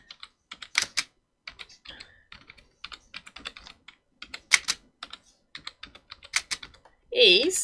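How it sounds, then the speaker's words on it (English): Irregular bursts of clicking keys on a computer keyboard, close and fairly quiet, with short pauses between runs and a brief voice near the end. "I'm trying to type and typing and spelling and talking don't work."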